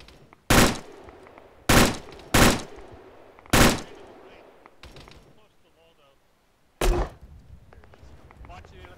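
Machine gun fire in a military video game coastal defense mission: five loud, sharp bursts at irregular intervals, each ringing out briefly, with a quieter shot between them and low background noise.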